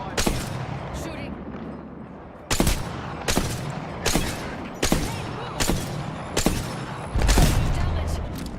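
Repeated gunshots in an Apex Legends-style shooter game, sharp loud bursts landing at irregular intervals roughly every second over a steady rumbling background, with a few bigger booming blasts.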